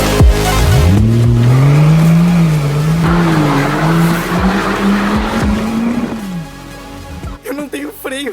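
A Rolls-Royce Wraith with no brakes squeals its tires loudly and steadily for several seconds under engine noise, then fades as a voice speaks near the end.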